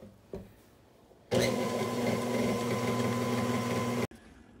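An electric mixer whirs steadily and loudly through butter pecan pudding cookie dough for about three seconds. It starts after a brief knock and cuts off abruptly, with quiet room sound before and after.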